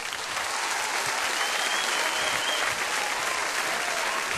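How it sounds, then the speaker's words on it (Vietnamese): A live audience applauds to welcome a comedy duo on stage in Vancouver, with steady, dense clapping that holds at an even level throughout and no voices over it. "một tràng pháo tay để chào đón phần trình diễn của đôi danh hài Chí Tài và Hoài Linh"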